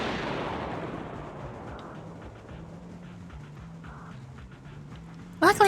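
An explosion in Zenless Zone Zero opens with a loud broad blast that fades over a couple of seconds into quieter game ambience with low tones, before a sharp burst cuts in at the very end.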